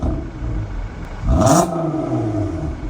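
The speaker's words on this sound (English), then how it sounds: "listen to how good this car sounds" An Audi A3 3.2 VR6 quattro engine idling, then revving up once and settling back down, close and loud, with a throaty rising and falling tone.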